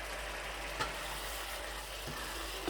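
Chicken gravy with yogurt fries in a pan as a faint, steady sizzle, broken by a couple of soft utensil taps.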